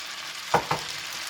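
Glass noodles stir-frying in sesame oil, a soft steady sizzle broken by two quick scraping stirs close together, faint and close, with no voices.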